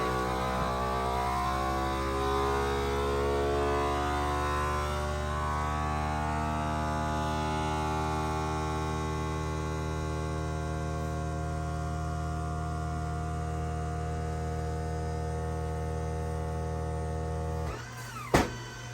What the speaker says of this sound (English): This is the vacuum sealer. Push it for dry.